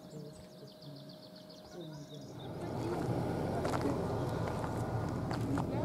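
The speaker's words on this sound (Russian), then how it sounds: "Такого громкого пения птиц, если честно, я, наверное, даже никогда нигде и не слышал." Birds chirp and trill clearly in the Ergaki mountains of the Western Sayan for a few seconds, then a broad rushing noise rises and buries the song.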